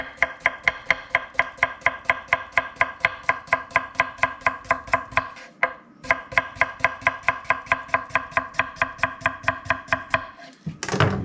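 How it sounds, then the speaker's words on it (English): A knife slices a small chunk of cucumber on a board in fast, even, close strokes, about four per second, pausing briefly midway before resuming. "Now I've just literally got a little chunk of cucumber there. I'm just going to slice it."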